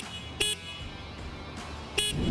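Horn of a CityCoco 72V 3000W three-wheeled electric scooter, sounded as two short, separate electronic beeps about one and a half seconds apart against a quiet background.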